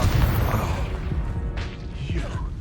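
A Confringo fire spell blasts in the Hogwarts Legacy video game, a loud booming burst with a rumbling low end, followed by a second crackling impact a moment later amid dense combat noise.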